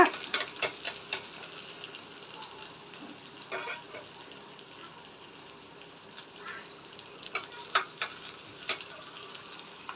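Steady sizzling of onions frying in hot oil, with occasional sharper crackles and the clink of a utensil stirring, no voices.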